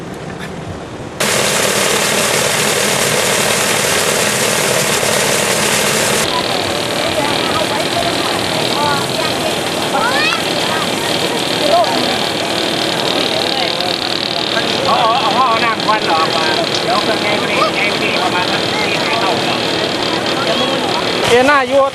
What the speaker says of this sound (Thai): เครื่องนี้ก็สูบไปแต่เครื่องตัวนี้ก็สูบตรงตรงที่บ่อน้ำ